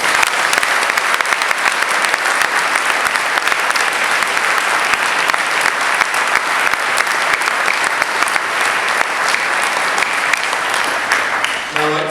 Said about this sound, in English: To our applause.